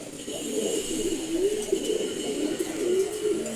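Pet pigeons coo close by, a low, rolling, throaty sound that swells and repeats steadily, with no talking over it.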